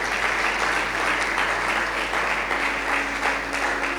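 A church congregation applauds the Lord during a service, producing dense, steady clapping that holds at full strength for the whole stretch with no talk over it.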